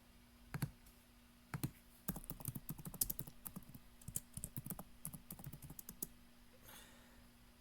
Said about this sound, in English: Okay, just gonna type.